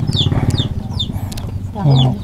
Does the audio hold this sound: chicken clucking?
yes